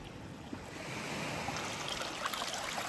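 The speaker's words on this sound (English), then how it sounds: "there's lots of water coming out of there" Water pours steadily out of a gold sluice pipe, a continuous close trickling and splashing flow with faint gurgles, swelling slightly as it goes.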